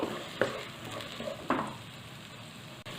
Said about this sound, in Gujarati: સરસ આપણી ડુંગળી ચડી જાય ત્યાં સુધી આપણે તેને સાતળવાની છે.